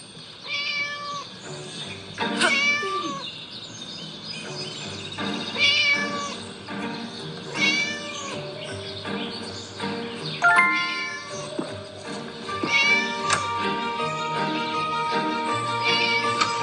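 A locked-up cat in a horror video game meows repeatedly, rising and falling cries arriving every second or two over a faint background hum, with no speech.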